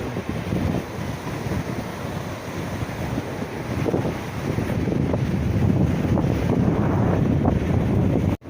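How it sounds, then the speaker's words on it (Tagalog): Strong southwest monsoon wind by a river and waves buffets the microphone in a continuous roar, with a low rumble that grows slightly louder toward the end. "Lakas ng hangin."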